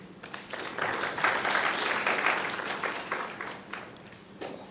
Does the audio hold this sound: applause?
yes